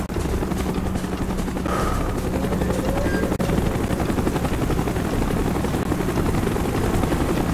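Helicopter in the Call of Duty: Black Ops campaign, a loud continuous rotor drone filling the whole scene with steady thumping, mixed with distant game ambience and faint gunfire.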